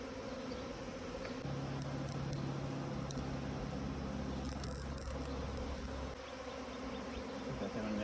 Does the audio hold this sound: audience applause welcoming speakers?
no